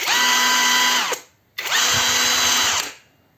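A cordless HEIMERDINGER LB210 rivet gun motor runs in reverse: two loud whining bursts of about a second each, with a brief gap between, each ending in a quick spin-down, up close.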